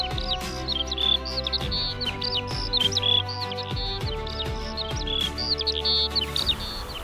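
Several birds chirp and tweet steadily around a green space in Ploufragan, bright overlapping calls repeating near and far for several seconds, with no talking.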